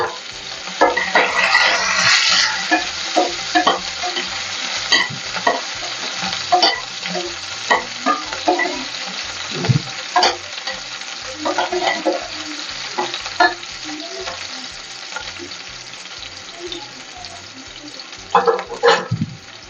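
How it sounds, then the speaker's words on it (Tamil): Cumin and small sambar onions fry in hot oil in a kadai, a steady close sizzle with a spoon stirring and scraping throughout. "இப்போ வந்து இது செய்கிறதுக்காக நான் ஒரு கடாயை வச்சு எண்ணெய் ஊற்றிருக்கேன். எண்ணெய் காஞ்சி வச்சு சீரகம் போட்டுக்கலாம்."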